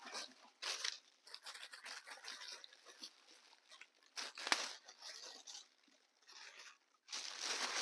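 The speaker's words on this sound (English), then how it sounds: "you probably will hear like loud paper noises" Paper crinkles and tears in bursts while a crossbody camera bag is unboxed, a close, busy rustling that comes and goes with short pauses and no talking.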